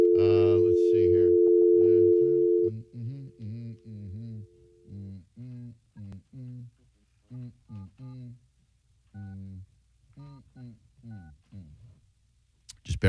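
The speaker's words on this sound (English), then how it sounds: "Just making a phone call to the authorities, Jacob." A steady telephone dial tone holds for a couple of seconds, then the line drops into a series of short, evenly spaced beeps and tones as a call is placed, with talk running over the tones throughout.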